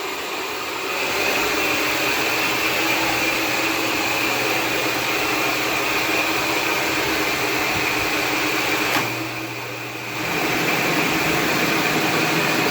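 A milling machine powered through a rotary phase converter runs with a loud, steady whirring hum that holds constant, dipping briefly near the end before resuming.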